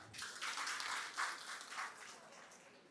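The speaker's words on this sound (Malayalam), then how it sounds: "നമ്മുടെ എല്ലാ അച്ഛന്മാർക്കും ഒരു വലിയ കൈയടി കൊടുക്കാം" A crowd at an engagement ceremony applauds the fathers with a steady wash of clapping that rises and falls a little over a few seconds, moderately distant and without speech over it.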